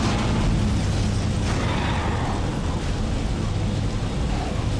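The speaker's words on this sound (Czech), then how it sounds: "Střelba asteroidů" Explosions in the asteroid-shooting minigame of the horror action game Dead Space, a dense, continuous roar of blasts and rumbling bursts that stays loud and steady throughout, with no talking.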